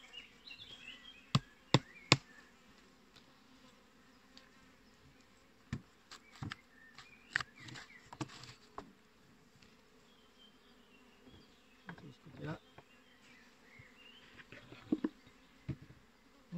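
Honeybees buzz around an open beehive super, a faint steady hum dotted with close passes of single bees and sharp knocks and clicks from handling the hive frames, with no talking.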